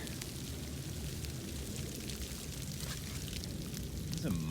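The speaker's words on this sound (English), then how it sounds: "I think it's just all sleet right now." Sleet falls outdoors on a cold winter day near freezing, a steady faint hiss of ice pellets with scattered ticks, continuous and fairly distant.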